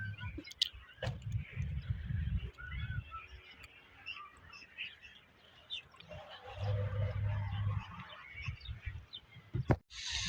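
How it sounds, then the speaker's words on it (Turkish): Scattered soft peeping of ducklings with their mother outdoors in a city park, faint and intermittent, with low rumbling wind or handling noise between the calls. "Burada çok tatlı ördek yavruları bulduk."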